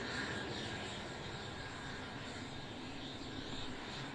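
Light aircraft engine idling before departure, a steady droning hum heard from inside the cockpit and fairly faint, with no other sounds.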